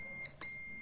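Multimeter buzzer in continuity mode testing the fuse on a Hisense inverter air conditioner indoor PCB, a steady high electronic tone that drops out briefly and resumes, faint and close.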